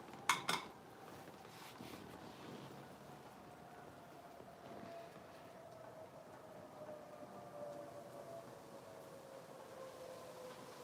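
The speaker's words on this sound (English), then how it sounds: "You can hear the trains as clear as bell tonight." Faint, distant trains rumble low and steady through a quiet, chilly night, with a long drawn-out tone in the background and a couple of brief clinks at the start.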